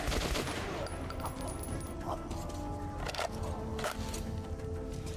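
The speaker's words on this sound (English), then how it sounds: "It's the shotgun from up close." Shotgun blasts fired up close in the video game Metro 2033 Redux, a few sharp cracking bursts over a busy mix of other gunfire, with a voice talking in between.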